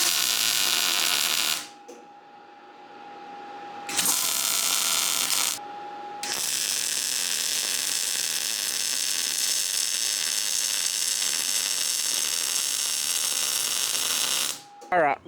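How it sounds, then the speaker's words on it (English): Steel pipe is welded onto a telescoping steel tube arm for a hay bale mover, with loud crackling, sizzling bursts broken by short pauses, then one long continuous run close by. "So now I'm just going to weld this pipe onto my telescoping tube arm."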